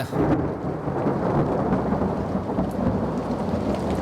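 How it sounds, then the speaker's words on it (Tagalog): Steady, loud rain pours down with rumbling thunder rolling underneath, a dense continuous storm roar with no voices. "Biglang lumakas ang hangin at ulan"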